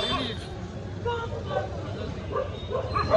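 A dog barks a few times amid crowd babble and general bustle near a Ganges ghat in Varanasi, the barks moderately distant under the surrounding voices.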